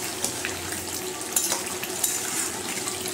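Mutton fries in a pan with a steady, close sizzle, broken by a few sharp scrapes and clinks as the meat is stirred.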